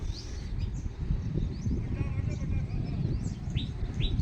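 Scattered small sparrow chirps over a busy, noisy village background with rumbling and faint murmuring.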